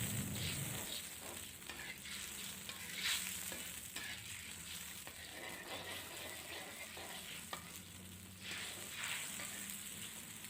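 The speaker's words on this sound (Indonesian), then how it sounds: "aduk-aduk agar sausnya ini tercampur merata dengan air yang udah dimasukkan tadi" Sweet and sour sauce for tofu stirred with water in a pan, bringing a low, steady bubbling sizzle broken by soft spoon scrapes, close and faint.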